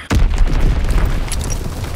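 A heavy bomb detonates in the video game Call of Duty: WWII, a loud booming blast that rolls on in a dense low rumble with scattered crackles for about two seconds.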